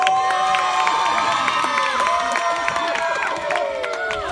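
A dense crowd cheers and shouts in acclaim, loud and continuous, with many overlapping voices and whistle-like cries filling the whole stretch.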